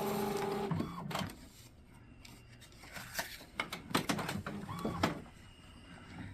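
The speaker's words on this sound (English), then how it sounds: "We're set to perceptual, normal printing. We'll go print." An Epson ET-7700 inkjet printer prints a photo, its steady mechanical whir broken by repeated clicks and rattling pulses of the print head and paper feed, close and fairly quiet with no talk.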